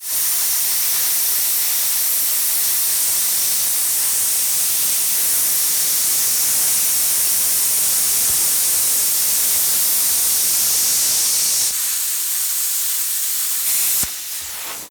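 TOOLIOM 220V plasma cutter running at 50 amps slicing through 3/4 inch metal, a steady loud roaring hiss for about twelve seconds that briefly cuts off, returns, then stops.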